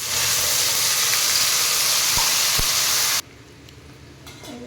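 Masala with onions frying in a pan for besan curry, giving off a loud, steady close hiss and sizzle with a couple of faint clicks, then dropping abruptly to a much quieter simmer.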